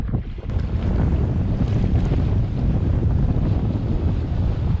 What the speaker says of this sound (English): We're experiencing some really strong headwinds.